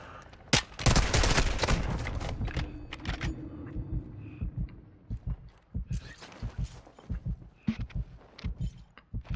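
Repeated gunfire in the video game Warzone 2 DMZ: a loud dense burst of shots early on, then scattered sharp single shots and short bursts, some closer and some more distant.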